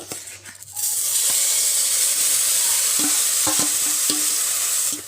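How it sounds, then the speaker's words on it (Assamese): Loud, steady frying sizzle of raw papaya in a wok, with occasional clinks and scrapes of a spatula stirring the food. "এই অমিতাখিনি যেতিয়ালৈকে পানীখিনি শুকাই নাযায় তেতিয়ালৈকে মই ভাজি ল'ম"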